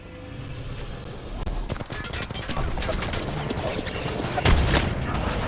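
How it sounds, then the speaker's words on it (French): Gunfire in Apex Legends comes as rapid bursts of automatic shots and sharp cracks over a busy game mix, growing louder midway, with a heavy impact near the end. "Je me fais tirer dessus."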